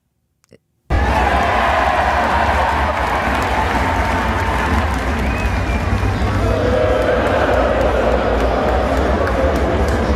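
A large stadium crowd at a Yankees game roars and cheers loudly and continuously, a dense wash of voices after a brief quiet start.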